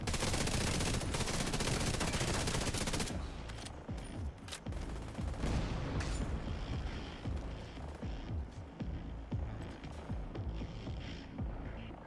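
Rapid video game gunfire in a Brooklyn shooter match, dense overlapping bursts of automatic fire filling the whole stretch, loudest and most continuous early on, then choppier volleys with scattered single shots.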